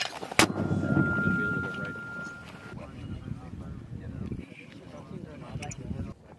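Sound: artillery gun firing

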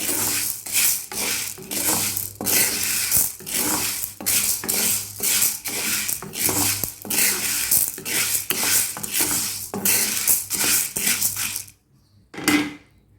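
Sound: dry roasting green gram (moong) in a pan

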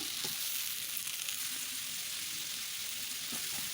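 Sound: green chilies frying on a clay stove

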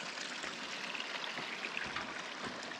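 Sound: rainwater running over the ground after rain

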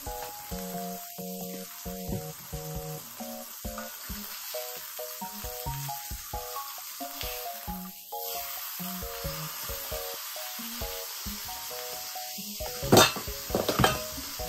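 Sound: half hamburger bun toasting in a pan

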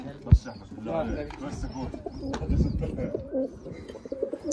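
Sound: pigeons cooing

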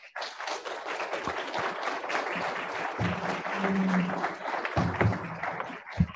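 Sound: audience applause

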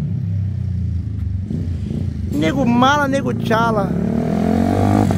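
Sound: Honda Titan 150 motorcycle revving, quickshifter gear change

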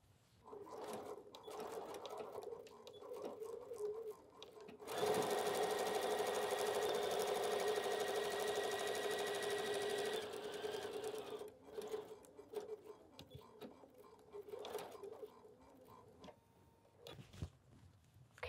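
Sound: sewing machine sewing a quarter inch seam

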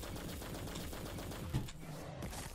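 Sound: machine gun fire in the video game The Cycle

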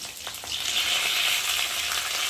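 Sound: fried potatoes sizzling in pan as spices are added

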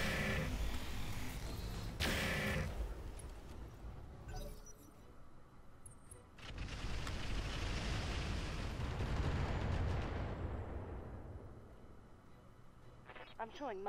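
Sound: missile fire explosions in the video game Roguetech

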